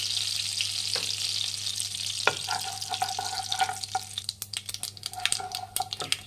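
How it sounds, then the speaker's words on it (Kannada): Mustard seeds splutter and sizzle in hot oil in a pan for a garlic rice dish, a steady hiss punctuated by quick irregular pops and crackles that grow busier toward the end, with no talking. "ಸಾಸಿವೆ ಸಿಕ್ಕಪಟ್ಟ ಆಗಲಿ"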